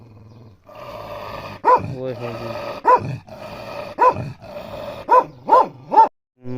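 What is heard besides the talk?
dangerous dog growling and barking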